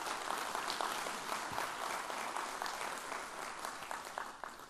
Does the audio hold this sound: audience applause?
yes